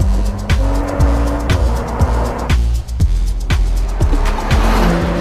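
A 2014 BMW M235i automatic driven hard on back roads, its engine roaring loud and close as it revs through repeated sharp upshifts and downshifts, with tire squeal and road roar beneath.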